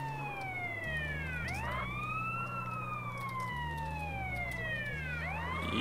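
A wailing ambulance siren from the ambulance mission in GTA San Andreas, with rising and falling sweeps repeating over a steady low engine drone, loud and continuous throughout.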